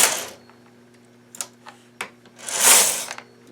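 Sparse wooden clicks and taps of knitting needles while knitting a toy dinosaur, a few soft irregular ticks between louder rustling swishes of yarn and hands, close and quiet, with no talk.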